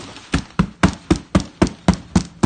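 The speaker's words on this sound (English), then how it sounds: "Boxy, like it sounds like a cardboard box." A boxy, cardboard-box-like sound, EQ'd to resonate hollowly, strikes nine times in a steady, evenly spaced rhythm, each hit loud and close with a short, dull decay.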